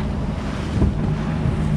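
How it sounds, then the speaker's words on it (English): Sea waves slosh and wash around a small speed boat in the rain, heard up close as a steady rushing noise with buffeting wind and one heavier thump of water partway through. "The waves are getting a little bit bigger, aren't they?"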